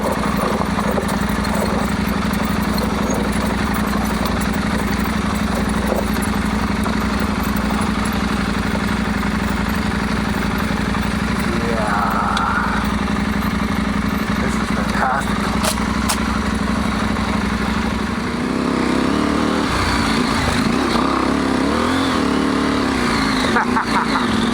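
A motorcycle idles in a steady, close, loud drone throughout, its tone wavering slightly near the end, while people talk nearby.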